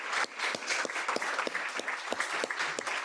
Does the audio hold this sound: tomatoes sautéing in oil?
no